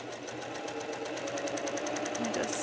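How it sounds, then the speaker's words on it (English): A sewing machine stitches a curved quilt seam, its rapid even clatter running steadily and close, while a person talks quietly underneath. "Let's go over to the sewing machine and sew this together."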